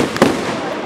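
A single firework bursts with a sharp boom and a brief crackling tail during a fireworks display at an anniversary celebration at Domaine de Vavril near Lyon, close and loud.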